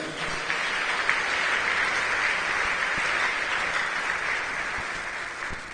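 A church congregation applauds together in sustained, dense clapping that fills the room, loud and continuous for several seconds and tapering slightly at the end.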